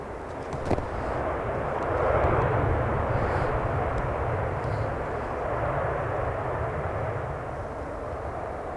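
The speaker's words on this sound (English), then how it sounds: "A320-200. Bit wobbly there as it comes down." Airbus A320-200 landing at Manchester Airport in turbulence, a broad steady engine roar heard from outside that swells and then holds, loud and continuous, with no talk over it.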